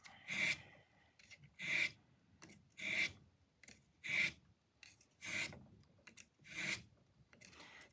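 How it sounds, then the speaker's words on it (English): A vertical piano hammer is sanded with strips of sandpaper in six even rhythmic strokes, each a soft close raspy rub, repeated at a steady pace in a quiet room. "I use strips of sandpaper."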